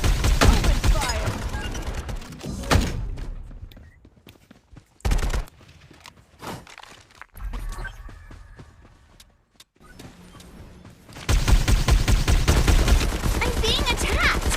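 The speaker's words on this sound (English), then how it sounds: "Open fire." Bursts of gunfire from Farlight 84 arrive in loud clusters: a dense volley at the start, scattered shots and quieter gaps in the middle, then a sustained heavy barrage at the end. Talk mixes with the shooting.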